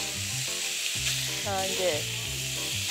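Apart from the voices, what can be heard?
meat sizzling as it fries in a pan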